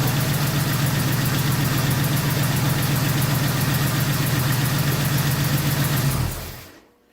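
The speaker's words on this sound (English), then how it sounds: "go ahead and up the RPM for you a little bit, Battle." An Oldsmobile 455 V8 runs at a steady raised speed, a loud, even rumble with a ticking mechanical rhythm that holds for about six seconds before the engine shuts off and winds down into silence.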